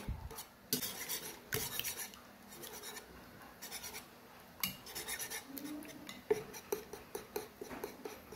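Corned beef and eggs being mixed in a pan, soft repeated scraping and light utensil taps, quiet and close, at an irregular pace with no voices.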